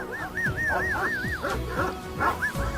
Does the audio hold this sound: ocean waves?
no